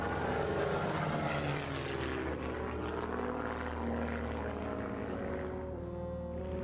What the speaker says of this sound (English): the lightning-quick Messerschmitt 109 fighter, considered the most deadly aircraft in the world